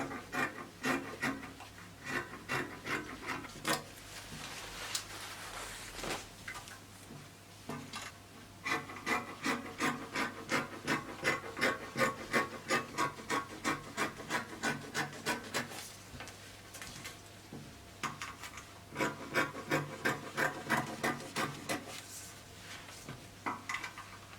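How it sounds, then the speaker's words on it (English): Scissors cutting through two folded layers of fabric for a flounce dress, a steady run of close, rhythmic rasping snips coming in bursts with brief pauses, no talking. "I'm cutting out 2 at the same time."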